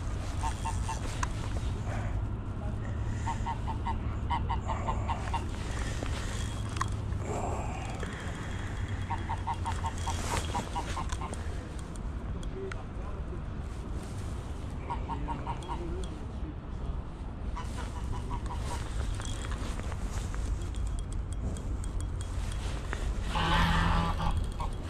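Duck calls and honking waterfowl at a winter fishing spot, repeated nasal quacks and honks carrying over a steady outdoor background, with people talking at times.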